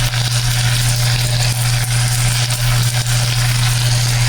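Garlic and onion frying in a pan for shrimp in coconut milk: a loud, close, continuous sizzle with a steady low hum underneath.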